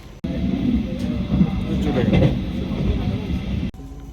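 A small train's steady rumbling ride in Switzerland, with low mechanical drone and rattling throughout, starting and stopping abruptly; a voice murmurs faintly underneath.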